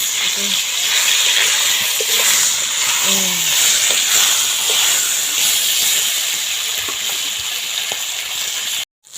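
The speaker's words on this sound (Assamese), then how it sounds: "মাছখিনি ভাজা হৈ গৈছে পিঁয়াজ দিছে" Kandhuli fish frying in a pan with onion and garlic gives a loud, steady hiss and sizzle that runs almost the whole time, with faint voices in the background.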